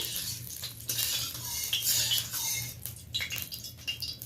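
Oil being swirled around a kadai to coat it before okra goes in, heard as soft metallic scraping and clinking of the pan, close and fairly quiet.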